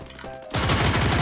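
A loud burst of rapid automatic fire breaks out in a battle royale shooter after a brief quieter moment, the shots packed tightly together.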